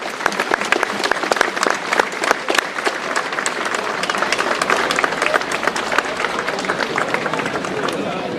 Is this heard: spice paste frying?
no